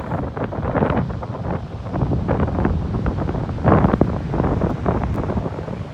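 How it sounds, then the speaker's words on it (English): Waves breaking onto rocks in a small bay on a windy coast, a steady roar with rushing surges, heavily buffeted by wind blowing across the microphone. "You can see the waves crashing up over there onto the rocks."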